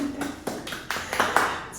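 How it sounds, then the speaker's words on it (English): An audience applauds a young Ugandan entrepreneur after an onstage conversation, scattered claps building into a ragged round, moderately faint, with a voice speaking over it. "we need to give a hand of applause"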